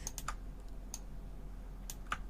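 Sparse, sharp clicks of a computer mouse during Photoshop editing, a few isolated taps spaced out over a quiet background hum.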